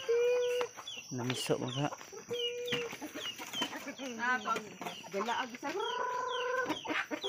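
Chickens cluck and squawk close by in irregular bursts, with a rooster-like call near the end, mixed with people talking nearby.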